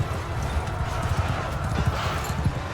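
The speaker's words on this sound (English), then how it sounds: "Horse." Cavalry horses gallop in a Mount and Blade II Bannerlord battle, dense overlapping hoofbeats thudding steadily under a broad battlefield roar, many riders moving together at a constant pace.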